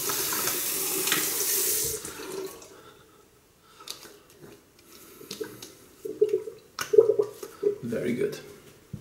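Cold water gushes from a tap at the start in a strong, steady rush, then cuts off, leaving quieter splashes and handling sounds while a person talks over the latter part.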